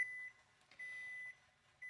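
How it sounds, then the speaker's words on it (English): A microwave oven running with an onion inside, its steady electronic hum broken by short pauses and a faint click, heard alone at close range. "I guess the microwave actually shut down by itself."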